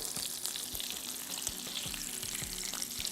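Oil sizzles and crackles steadily as falafel shallow-fries in a pan, with a constant hiss and scattered sharp pops throughout.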